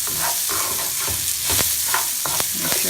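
Chopped onion and rice frying in oil in a pan for Mexican rice, a loud steady sizzle broken by scraping stirs and clatters of the spoon, with no voices.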